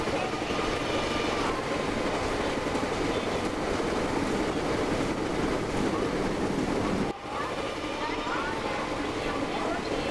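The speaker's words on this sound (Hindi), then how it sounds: "16087 अर्नाकुलम सलेम एक्सप्रेस हमें क्रॉस कर रही होती है, और इसका लोकोमोटिव होता है वैगनाइन।" An Ernakulam–Salem Express hauled by a WAG-9 electric locomotive passes at good speed alongside another train, producing a loud, steady broadband rumble and clatter that fills the clip, with a brief dip near the end.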